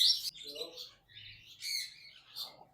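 Parrots and exotic birds chirp at the Rasheedabad bird market in Multan, Pakistan, giving faint, scattered short calls and squawks with quiet gaps between them.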